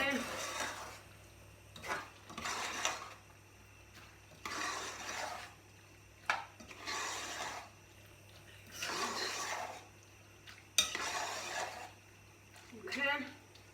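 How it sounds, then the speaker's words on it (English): Chilli ingredients with tomato puree are stirred in a pan in repeated scraping, swishing bursts, fairly close and moderately soft, recurring every second or two against a steady low hum. "Put it all in there, mix it all around."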